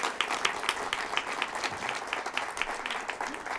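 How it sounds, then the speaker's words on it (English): An audience at a human rights panel discussion applauds the event sponsors with a round of distinct, closely spaced hand claps from a modest crowd, fairly near and steady. "Could you please give them a round of applause for their support?"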